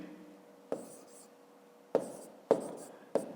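Pen or pencil strokes writing digits by hand during a grade 5 maths exercise, heard as four short, close scratchy taps spaced unevenly over quiet room tone.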